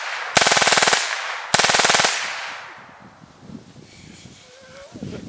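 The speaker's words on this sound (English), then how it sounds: "You can actually hear the bullet fire." Two loud bursts of rapid automatic gunfire, each about half a second long and close by, separated by a short gap, followed by fading echo and faint background voices.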